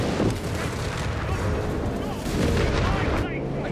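Heavy bombing strike in the World War II strategy game Company of Heroes 3, a dense continuous rumble of blasts and booms filling the whole stretch, loud and close, with players' voices faintly under it.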